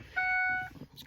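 Ford Super Duty truck giving a single steady electronic beep of about half a second, faint, with a person talking quietly around it.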